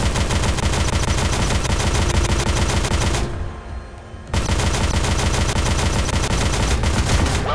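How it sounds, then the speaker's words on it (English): Tank machine guns in the MWT Tank Battles game fire in loud, rapid, sustained bursts of rattling gunfire, with a short pause of about a second before the firing resumes just as intensely. "Switch to machine guns to fight against enemy aircraft."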